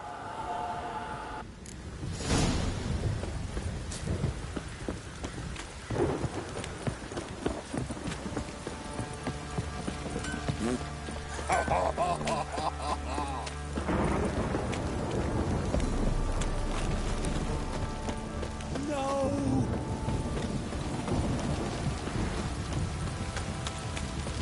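Steady rainfall in The Witcher video game, a constant wash of rain with thunder-like rumbles and horse hooves clopping through it at moderate distance.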